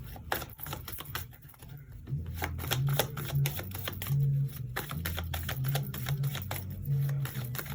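Tarot cards are handled and shuffled near the microphone, a run of quick papery riffles and soft slaps in bursts, with no talking.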